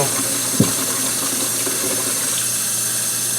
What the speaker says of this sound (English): I'm just going to go ahead and let some hot water run over here in my dishwater.